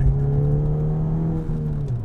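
A tuned Ford Fiesta ST running hard on a dyno, a loud, close engine drone holding a steady pitch with a slight dip near the end, tyres spinning on the rollers.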